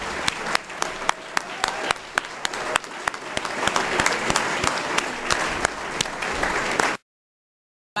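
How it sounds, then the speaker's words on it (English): Lecture audience claps steadily for several seconds after a talk on the Black Panther Party's 50th year, sharp individual claps standing out before the sound cuts off abruptly. "One more round of applause."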